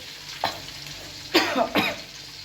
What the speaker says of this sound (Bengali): এখন এই তেলে বেরেস্তাটা করে নেব